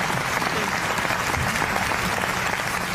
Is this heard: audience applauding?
yes